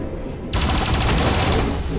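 A turret in XCOM 2 opens fire with an abrupt burst of gunshots that breaks a quiet moment and rattles on loudly in a rapid volley.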